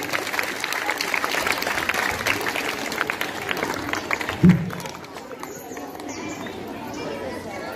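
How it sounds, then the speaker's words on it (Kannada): Applause from a school audience at an Independence Day celebration at a government school greets the headmistress. The clapping is fairly loud and mixes with crowd chatter, then fades after a few seconds into quieter murmuring. "ಆತ್ಮೀಯವಾಗಿ ಸ್ವಾಗತವನ್ನು ಜೋರಾದ ಚಪ್ಪಾಳೆಯೊಂದಿಗೆ ಕೋರ್ತಾ ಇದ್ದೀನಿ"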